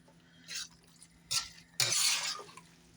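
A big metal spoon stirs enchilada filling of salsa verde, black beans and chicken in a bowl, giving three short scraping, wet swishes, the last one longer, close by and with no talk.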